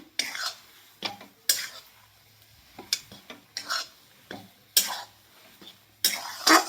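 A spoon scrapes and stirs vada vegetable filling in a pan, in sharp, regular strokes about once a second, close and clear, with faint sizzling underneath.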